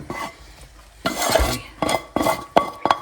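A banana and strawberry syrup is whisked into a cooled kulfi mixture, with loud, close bursts of scraping and clinking against the bowl separated by brief pauses.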